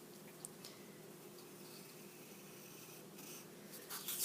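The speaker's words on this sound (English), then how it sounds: "Let's redraw this line in." A pencil redrawing a line on paper, a soft continuous scratchy rubbing that runs steadily throughout, quiet and close, with slightly louder strokes near the end.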